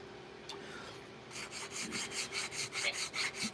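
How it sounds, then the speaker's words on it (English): A worn wooden sanding block freshly fitted with new 100 grit paper rubs back and forth against a Halo Warthog truck build, making a steady rhythmic rasping stroke roughly every quarter second, close and fairly loud, with no talking. "And I made this like 10 years ago, this sanding block."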